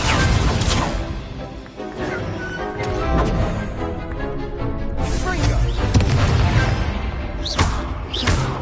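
Incendio fire spells are cast repeatedly in Hogwarts Legacy, producing whooshing bursts and heavy crashing impacts over a dense, loud layer of game battle noise and music, with a voice speaking now and then.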